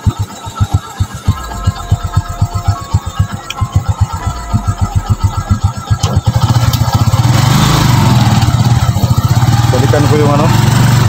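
A motorcycle engine cranks with rapid sputtering pulses, then catches and settles into a loud, steady idle close by.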